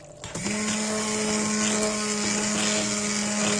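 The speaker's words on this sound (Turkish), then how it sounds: "Çorbayı blenderdan geçiriyorum" An electric blender purées rice soup, starting with a click and then a loud, steady motor whine that holds its pitch to the end.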